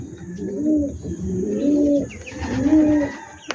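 Pigeons coo in three low, rolling calls, close and steady, with faint background noise and a small click at the end.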